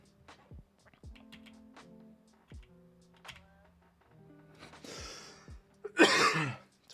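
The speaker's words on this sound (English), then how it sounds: "Rough cough." A man gives a rough cough, a harsh burst near the end preceded by scattered throat clearing and small clicks, close and fairly loud against near silence.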